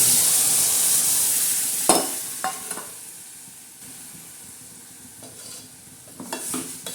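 Masala for a fish curry fries and is stirred in a pan, giving a soft steady sizzle with a few sharp scraping strokes of the spatula, close by and with no voice.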